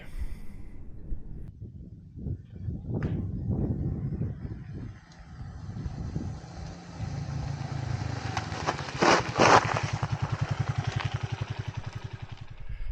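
A Beta Alp motorcycle rides off-road, its single-cylinder engine chugging and revving unevenly over rough ground, loud and close, with clattering from the suspension and a rapid throbbing exhaust as it accelerates toward the end.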